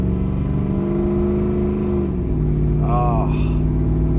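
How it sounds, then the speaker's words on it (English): 1986 Chevrolet Suburban with a Vortec engine accelerating on the road, a steady droning engine note with a shift partway through and road rumble, heard from inside under someone talking. "smoother engine, actually a quieter engine with a better exhaust note, way better horsepower, way better torque"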